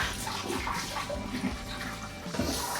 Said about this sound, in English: So, we're going to drain off that starch.